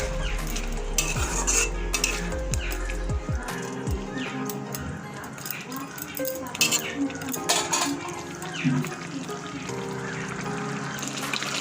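Lentil fritters dropped into a simmering gravy in a pot, close clattering of a spoon and pan with bubbling and light sizzle, busy and continuous throughout.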